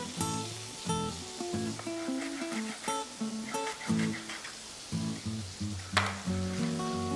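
Fennel, onions, leeks and garlic sizzle steadily in a pan, a soft continuous crackle running beneath louder background music.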